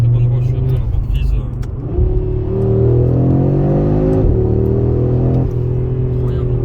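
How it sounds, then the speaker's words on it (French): A new Audi RS3 (8Y) accelerates hard on the road, heard from inside. The loud engine note climbs steadily through the revs, drops briefly at a gear change, then climbs again, while a voice talks over part of it. "J'essaie de prendre un peu des distances pour faire des accélérations"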